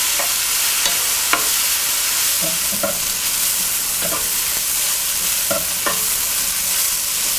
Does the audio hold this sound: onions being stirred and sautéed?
yes